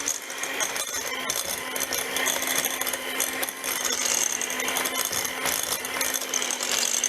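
An electric mixer whirs steadily while beating cream cheese for cannoli filling, with a constant motor hum and light rattling of beaters against the bowl, close and alone.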